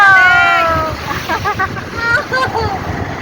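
Water splashes and sloshes against a moving boat in rough, stormy conditions, with wind noise and people talking and calling out over the splashing.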